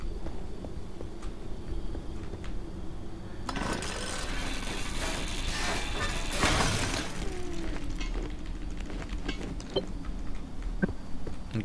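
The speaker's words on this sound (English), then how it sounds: "Let's scrap this panel for ingredients." A car panel is scrapped for materials in the game Pacific Drive, opening with faint ticking and then a burst of crashing, shattering metal and debris in the middle before it settles back to a low hum.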